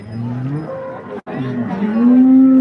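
A cow lets out long, loud, deep moos close by at a morning cattle market in Modnimb, two calls with a brief pause between them.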